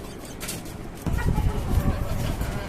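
Young hens about three to four months old, kept together in a cage for eggs, clucking and calling nearby, a louder burst of fowl noise partway through.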